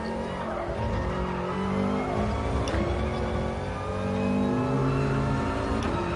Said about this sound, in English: So get on the power. Let's try this second gear.